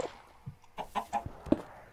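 A Minecraft chicken clucks in short, soft bursts, several clucks spread irregularly, fairly quiet with no talk over them.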